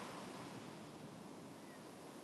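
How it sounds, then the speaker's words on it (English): Ocean waves wash continuously at a rocky seaside spot near a rocket launch site, a steady broadband roar of surf with some wind buffeting the microphone, loud and unbroken throughout, with no talking. "look at these waves"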